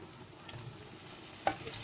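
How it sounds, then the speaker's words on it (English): Meatballs stirred in a frying pan with garlic over low heat, a soft steady sizzle with a quick scrape and clack of the utensil near the end. "And a quick stir."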